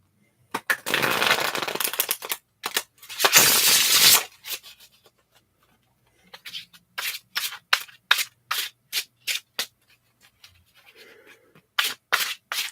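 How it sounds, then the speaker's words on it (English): Tarot cards being shuffled up close: a long riffling rush, then a quick burst, followed by a series of short, crisp card snaps and slides. "I'm just going to shuffle the cards."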